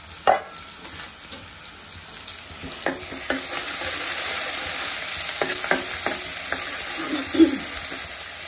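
Crushed garlic and chopped onion fry in a pan for a bottle gourd curry, a soft continuous sizzle broken by scattered stirring clicks and scrapes, heard close with no talking.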